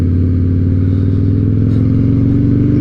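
Harley-Davidson motorcycle fitted with straight pipes, an open air intake and a modified intake, idling with a loud, deep, throbbing exhaust pulse that stays steady and close throughout.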